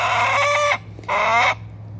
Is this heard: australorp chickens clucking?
yes